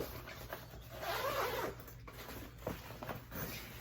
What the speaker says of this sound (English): it opens like this, and it has this zipper